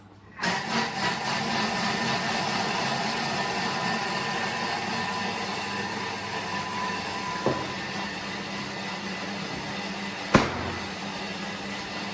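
A Thermomix food processor starts up at speed 5 and runs with a steady, loud motorized whir, with a couple of brief clicks partway through.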